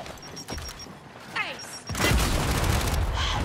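A frag grenade detonates in Gears 5 Horde mode, a heavy boom arriving after brief mechanical clatter and shouting, then a sustained rumbling roar of the blast filling the rest of the moment.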